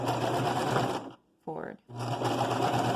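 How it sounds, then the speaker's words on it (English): Sewing machine back stitching a fabric mask with ear loops, running loud and steady, stopping briefly while a voice speaks, then starting up again. "and then gently sew it together. Back stitch,"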